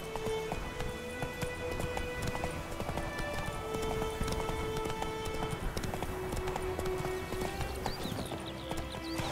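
Hoofbeats pound in a fast, steady gallop as a horse runs in The Witcher 3: Wild Hunt, loud and continuous over the game's music and ambience.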